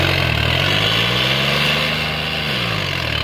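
A fully modified tractor with a reworked pump tuned to 150 HP idles nearby, a steady low engine drone whose pitch dips slightly and rises again, with no talking.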